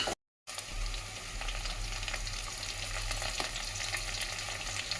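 Green chilies fry in hot oil in a pan, a steady loud sizzle with a low rumble beneath and occasional stirring scrapes, after a brief dropout at the start.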